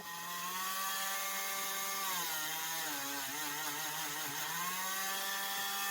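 A Ryobi rotary tool gives a steady, loud high-pitched motor whine that drones continuously, its pitch dipping briefly as it bites into wood, then recovering.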